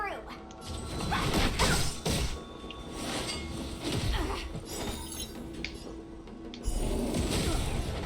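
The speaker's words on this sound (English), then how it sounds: "Explosions." Crashing, shattering blasts from a game erupt repeatedly over a dense rumbling mix, with loud impacts bunched near the start and again toward the end.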